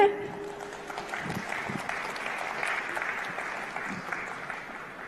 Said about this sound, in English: May I have a big round of applause for her?